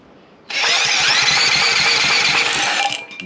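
A small engine is cranked with the choke off and fails to catch: a sudden burst of whirring, rasping starter noise runs steadily for about two and a half seconds, then cuts out.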